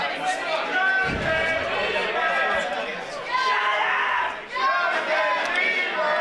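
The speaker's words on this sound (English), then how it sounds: "listen to this UPW crowd" UPW wrestling event crowd roaring and chanting in waves, a loud, dense wall of voices that dips briefly before surging again.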